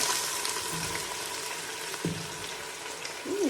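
Chopped onion frying in oil with panch phoron spice, producing a steady close hiss and sizzle with light crackles, continuous and fairly even throughout.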